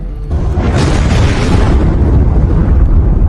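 A loud, sustained film explosion of a shop: a sudden broadband blast that rumbles on heavily for several seconds with deep low-end roar, no voices.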